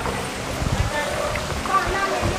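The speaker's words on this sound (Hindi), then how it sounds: "अब मैं पास से आपको जो है झरना दिखाता हूँ" Waterfall in Garwaji near Alwar, Rajasthan, a steady broadband rush of flowing water close by, with someone talking over it throughout.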